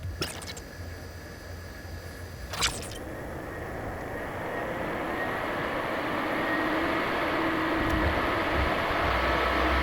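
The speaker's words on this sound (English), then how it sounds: "The fact that the PS4 can go full jet engine mode And still keep chugging along" A PS4 console fan roars like a jet engine, a broad steady whoosh that grows gradually louder and fuller over several seconds after a few brief clicks at the start, with no one speaking.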